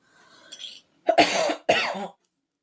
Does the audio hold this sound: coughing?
yes